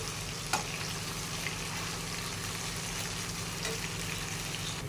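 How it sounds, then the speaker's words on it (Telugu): Pomfret fish frying steadily in a pan with oil, a constant close crackling sizzle throughout with a brief louder pop early on. "ఒక సైడ్ వేగింది, తిరిగేస్తున్నాను సందువాలని"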